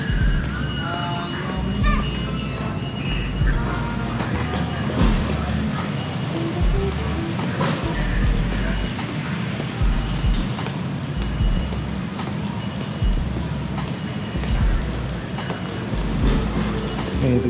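A New York City subway train pulls into an underground platform with a loud, steady rumble and rattling wheel clatter that continues for the whole stretch. Brief scattered voices sit faintly beneath the noise.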